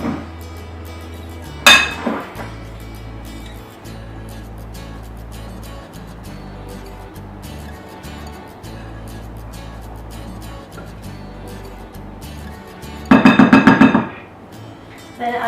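Cupcake batter with buttermilk is mixed in a bowl: a sharp clink early on, a quiet low hum through the middle, then a short burst of rapid clattering near the end.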